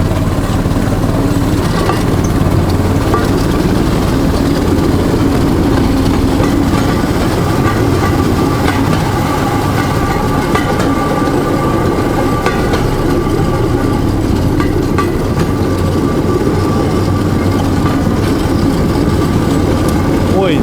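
A rail draisine rides a narrow-gauge peat railway across open fields, its steady mechanical rumble and wheel clatter running loud and continuous throughout, with a faint voice now and then.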